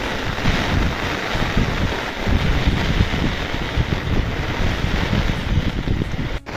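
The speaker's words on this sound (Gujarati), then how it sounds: "તમને વરસાદ ફીલ થઈ રહ્યો છે. એટલો પડે છે, છત્રી રાખવી મુશ્કેલી છે" Heavy monsoon rain with strong stormy wind, a constant loud roar of rainfall and gusts buffeting the microphone, steady throughout with no voices.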